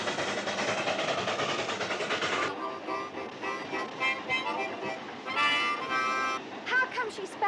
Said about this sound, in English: he's letting your child drive this locomotive?